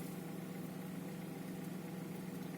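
A Hyundai Solaris engine with a suspected exhaust valve knock idles steadily, a faint, continuous low hum with a fine rapid ticking running underneath, with no pauses and no voices.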